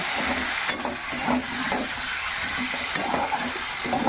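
Fried potatoes being sautéed with spices in a pan produce a steady, fairly loud sizzle and hiss, with soft stirring scrapes throughout and no voices.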